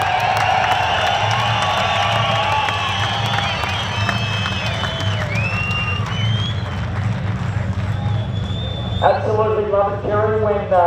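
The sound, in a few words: crowd cheering at Summernats car show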